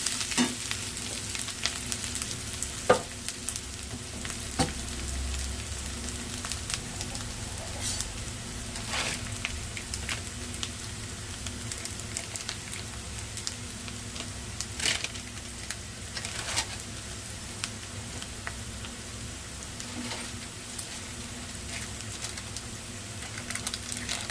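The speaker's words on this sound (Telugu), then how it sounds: "కాసేపు లో ఫ్లేమ్లో పెట్టి ఆనియన్స్కి పసుపు అంతా ఇంకేదాకా ఉంచాలి" Onions with turmeric frying gently in a pan over a low flame for egg burji, a steady soft sizzle running throughout with occasional small pops and clicks.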